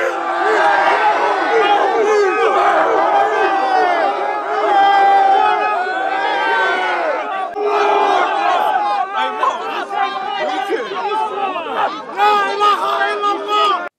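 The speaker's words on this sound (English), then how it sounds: "Towards evening, a large crowd formed and began yelling." A large protest crowd at Speakers' Corner in London yells and shouts, a dense roar of many overlapping voices close by and loud throughout, with individual cries rising out of the din.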